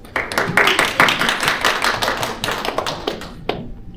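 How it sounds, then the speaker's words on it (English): A small group at a student board meeting claps steadily for a few seconds, close and lively, then the applause breaks off abruptly. "I'd like to give Sochi a round of applause for making the dean's list"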